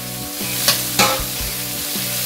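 Vegetables stir-fry in a hot pan for prawn fried rice: a loud, continuous sizzle broken by a few sharp metallic scrapes and clanks of a spatula against the pan, with no talking.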